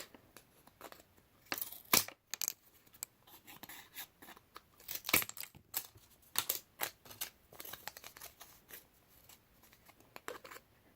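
Scissors cut through craft material for a doll bed, snipping in a rapid irregular run of short crisp clicks and rustles, close and fairly quiet, with no voices.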